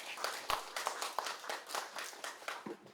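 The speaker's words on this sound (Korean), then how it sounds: "큰 박수 부탁드립니다" An audience at a National Assembly Library colloquium gives sparse, moderately distant applause, a few claps standing out over a soft, steady patter.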